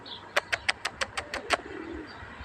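A female pigeon gives a run of eight evenly spaced cooing pulses, close and clear, followed by a softer trailing murmur against a quiet outdoor background.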